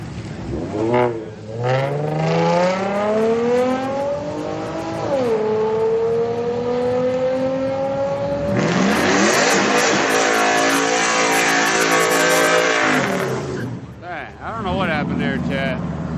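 Ford and Chevy street cars race at a Friday night street car meet, engines revving hard with rising gear-change sweeps, one car pulling away then another roaring in loud and close, with people talking over it.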